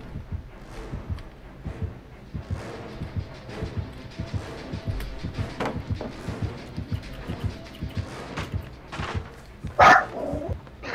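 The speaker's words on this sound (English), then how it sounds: "aggressive barking." A dog barks repeatedly in short, sharp bursts amid scuffling noise, ending with a louder yelp near the end, in the video game Dead by Daylight.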